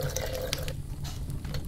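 Water pours steadily into a blender holding soaked soybeans, a continuous close splashing trickle that thins out toward the end, with no talking.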